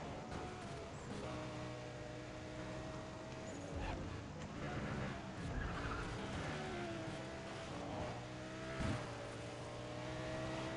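A car drives and skids in the racing video game Need for Speed World, its engine droning steadily while tires squeal in long sweeping skids, loud and continuous, with no talk over it.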